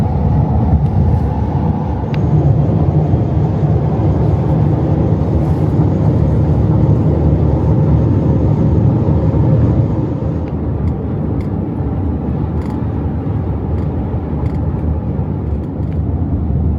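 A car cruises along an Arizona interstate north of Flagstaff, heard from inside as a steady, loud low road and engine rumble with wind hiss that stays even the whole way through and carries no talking.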